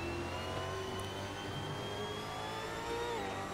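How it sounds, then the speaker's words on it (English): A rough, continuous V8 supercar engine drone in a racing video game, with tones that slowly rise and fall as it revs, steady and fairly loud throughout. "Unfiltered, raw, rough engine note."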